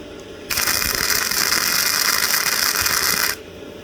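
A short flux-core welding run on metal gives a steady, loud crackling buzz that starts abruptly, holds for about three seconds and then cuts off, with no talking.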